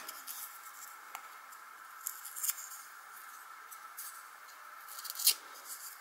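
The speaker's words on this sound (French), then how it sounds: "la dentelle ici que je vais découper également." Scissors snip through lace for an art journal page, a few soft crisp cuts and a sharper snip near the end, quiet and close with no talking.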